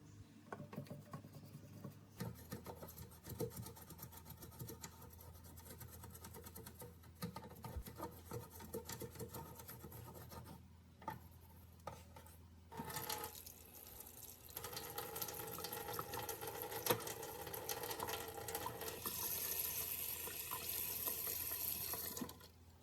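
A toothbrush wet with plain water scrubs the corners of a kitchen sink while water runs and splashes steadily from the tap, a soft continuous hiss with brief scratchy strokes and drips.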